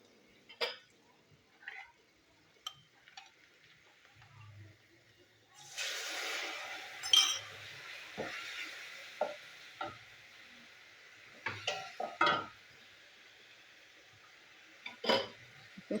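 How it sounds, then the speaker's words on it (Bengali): Oil-fried potatoes coated in turmeric and chilli powder are stirred in a pan. Scattered scrapes and knocks of a spoon come through, with a soft sizzle rising in the middle stretch, close and moderately quiet. "আলুটা একটু নাড়াচাড়া করে নেবো।"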